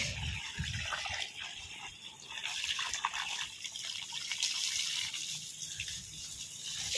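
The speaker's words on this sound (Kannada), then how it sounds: "ಇವತ್ತು ಪ್ಲಾಂಟ್ಸ್ಗಳಿಗೆ ಒಳ್ಳೆ ನೀರು." Water splashes and trickles steadily as plants are watered in a terrace garden, with a soft, continuous pouring sound close by.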